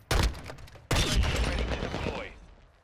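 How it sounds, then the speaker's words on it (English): Fireworks effect from a Butch tracer pack headshot kill in Warzone DMZ, two sharp crackling bursts, the second a longer sparkling burst with a whistling tail that fades out. "if you hit them on the head, there's actual fireworks that happens as they get bodied"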